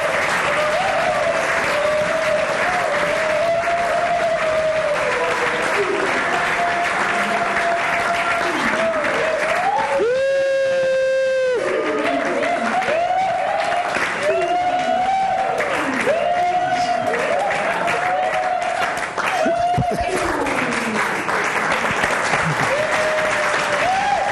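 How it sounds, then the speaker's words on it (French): An audience at a tribute show applauds guests with continuous loud clapping, while a voice speaks over the applause and cheering rises now and then. "je vous demande d'applaudir très fort pour mes invités"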